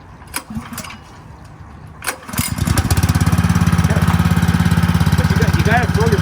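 Fire-fighting pump engine pull-started: a couple of sharp rope-pull bursts, then at about two and a half seconds it catches and settles into a loud, steady, rapid putter that runs to the end, with people talking nearby.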